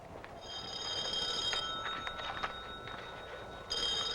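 An old-style telephone bell rings in repeated bursts, a bright metallic trill that stops briefly and resumes, fairly close and alone without talking.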